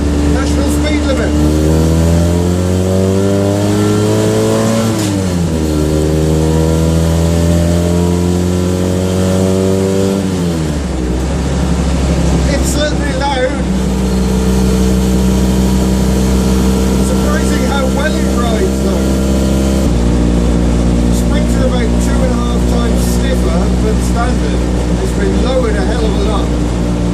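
A Citroen 2CV race car's small 44 bhp engine drones loudly from inside the car on an open road, revving up through the gears with rising pitch and shift drops; a voice speaks over it.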